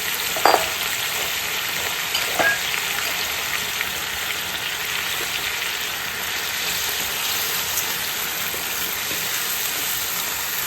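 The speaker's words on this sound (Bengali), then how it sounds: "হালকা হালকা ভাজবে এটা" Ingredients lightly frying in a pan for a mixed dal khichuri give off a steady, close sizzle that runs unbroken throughout, with a few faint clinks and no talking.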